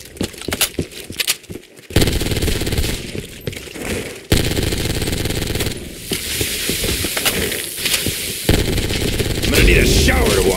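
Sustained automatic gunfire rattles loudly in a custom Call of Duty Zombies map, long continuous bursts separated by brief pauses, with other game effects mixed in.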